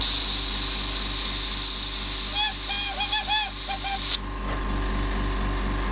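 An airbrush sprays paint over a stencil on a skull, a loud steady hiss close by that cuts out abruptly near the end, leaving a low background hum and a few faint squeaks.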